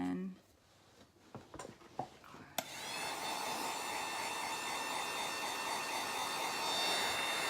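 Hair dryer blowing on chalk paint brushed onto an old book, a steady loud whooshing hum that starts abruptly after a few handling knocks and a voice.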